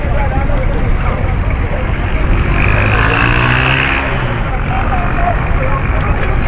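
A heavy vehicle's engine roars and swells as it drives past through constant traffic noise, loud and close.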